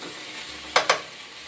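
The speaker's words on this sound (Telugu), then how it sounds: "చూడండి, బెండకాయ మంచిగా ఫ్రై అయ్యిందండి." Okra (lady's finger) frying in a pan gives a steady soft sizzle, broken by two quick scraping stirs close together midway, with no voices.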